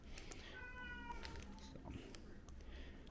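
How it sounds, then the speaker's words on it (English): A house cat meows and yowls in short, insistent calls, fairly close, over a steady room hum with no talking. "my cat is having a cow"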